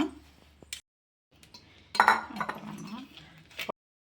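A spoon scrapes and clinks against bowls as mashed homemade baby food is scooped into another bowl, with several sharp clinks in separate bursts and quiet gaps between them, near and moderately loud.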